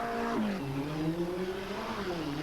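A race car in a 1994 hill climb on Vodno roars past, engine pitch dropping sharply as it shifts gear, then climbing steadily again, heard from a moderate distance.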